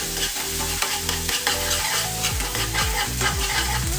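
Red chili powder and cream sauté in a kadhai with a constant close sizzle and repeated scraping stirs at a steady rhythm, with no talking.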